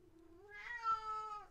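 A house cat lets out a single drawn-out meow that rises and wavers in pitch over a second or so, close and fairly quiet in an otherwise still room.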